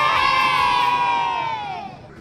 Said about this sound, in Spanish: tenemos un grito de guerra